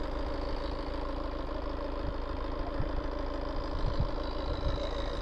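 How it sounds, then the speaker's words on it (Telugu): A 2.2 diesel car engine idles steadily up close, a continuous low rumble with a faint knocking texture and no talking. "ఇంజన్ నాయిస్ ఒకసారి వినండి, చాలా స్మూత్ ఉంది."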